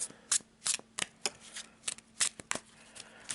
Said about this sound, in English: Let's give it a quick shuffle.